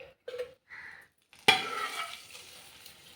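Tamarind leaf dal, chinthachiguru pappu, stirred in a clay pot in a village kitchen: after a few soft knocks, a spoon scrapes through the thick mixture with a wet, gentle swish that slowly fades.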